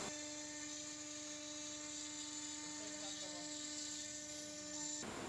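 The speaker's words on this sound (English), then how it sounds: "Now you can cut the shape using a 4mm milling bit and you can see the total shape how it has come out." A CNC machine carves cheap-quality plywood with a 4mm milling bit, giving a steady, high-pitched whine with strong tonal harmonics and a continuous grinding buzz, then a brief shift in pitch near the end.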